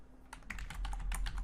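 Quick typing on a computer keyboard, a close run of light, irregular key clicks over a low steady hum, with no voices.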